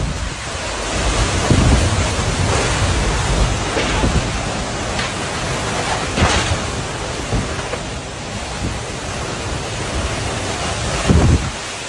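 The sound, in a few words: intense tornado storm passing a house in Illinois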